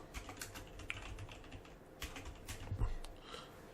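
Rapid clicking keystrokes on a computer keyboard as someone types a search for Windows Terminal, irregular taps close and clear with no talking.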